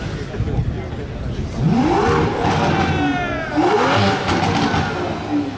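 An Aston Martin V12 revs hard on a street in Nice during the Gumball 3000 supercar rally, with two rising, roaring engine sweeps close by and people talking over it.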